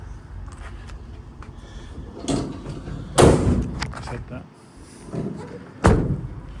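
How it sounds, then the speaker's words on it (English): A van's side loading door, on a vehicle with a steel bulkhead that matches a Renault Master, slides and slams shut in several heavy thuds and bangs close by, while someone talks between the impacts. "Steel bulkhead, side loading door, really nice condition throughout."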